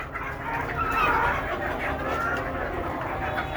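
Desi chickens on a small farm cluck and murmur in a steady, moderate chorus, with one brighter call standing out partway through and no voices over them.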